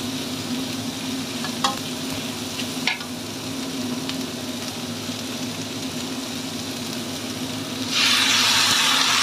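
Carrots, green beans and meatballs stir-fry in a pan with a constant close sizzle and a few sharp scrapes and clicks. The frying swells noticeably louder and brighter near the end.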